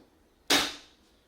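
A HEPA filter release on a Kenmore pet-friendly lightweight bagged canister vacuum pops open, giving one sharp, close snap that fades quickly against a quiet background.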